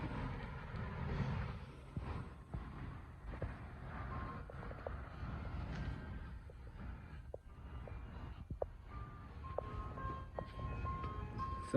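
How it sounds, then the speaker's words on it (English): An ice cream truck parked on a street in Downey, California, near Western Avenue, with faint jingle-like tones threaded through steady outdoor traffic rumble and wind noise. "ice cream truck is right there."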